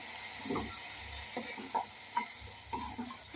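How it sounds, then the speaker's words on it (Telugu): A spice paste of onions, cinnamon, cumin, coriander, peanuts and green chillies frying in a pan for a ridge gourd and meal maker curry, soft steady sizzling with a few light clinks as it is stirred. "శుభ్రంగా మనం దాన్ని పచ్చివాసన లేకుండా చాలాసేపు ఫ్రై చేయాలండి"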